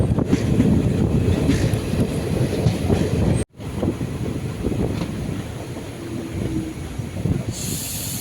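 A passenger train running from Chennai Beach to Tiruvannamalai rumbles and rattles steadily inside a sleeper coach, with wind noise through open windows and a brief cut partway before the clatter resumes.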